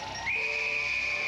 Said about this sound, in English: Referee's whistle, in goes British Bulldog